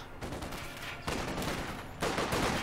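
Sustained .50 caliber machine gun fire in a World War II tactics game, Market Garden setting, a steady distant rattle of rapid bursts that swells louder in two steps, with no voices over it.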